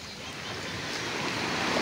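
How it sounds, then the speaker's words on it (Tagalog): Large ocean waves roll in on a sea near a fishport, a continuous loud wash of surf and wind noise that swells slightly toward the end, with no talking. "Medyo malaki ang gulong ngayon ng ating dagat. Pero ang alon, hindi sabog. Buo, gulong lang, malaki."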